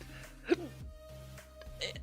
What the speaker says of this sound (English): Hiccup.